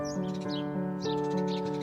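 A small bird chirps and sings in bright repeated high notes over a steady tonal background hum, close and continuous throughout.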